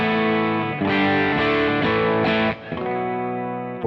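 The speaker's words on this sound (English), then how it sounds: "let me give you my clean tone" Electric guitar played through a Kernom MOHO fuzz pedal with a clean to slightly broken-up tone, a run of sustained ringing chords and notes with a brief dip near the end, alone and close.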